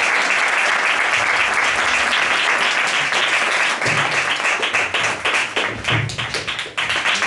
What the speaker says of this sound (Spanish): Un aplauso para Gustavo.